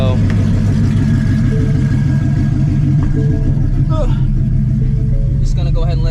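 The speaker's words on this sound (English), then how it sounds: "It idles the same way it did with the Supercharger kit." A supercharged Ford Shelby GT350 fitted with an ESS G3R kit idles at operating temperature, a loud, steady, lumpy rumble with faint higher whine, while a person talks over it.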